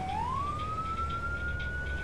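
A rising electronic wail from a fire engine siren in the Firefighting Simulator game climbs and then holds a steady high tone over a continuous engine rumble, loud and close.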